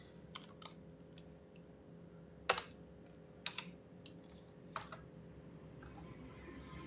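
Keys on a computer keyboard tap sparsely at a quiet desk, a handful of isolated clicks and short clusters spread over several seconds against faint steady background hum.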